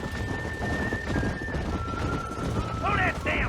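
Horses from the video game Red Dead Redemption, hooves pounding at a steady gallop under continuous game noise and shouting voices, with a sharp whinny breaking through near the end.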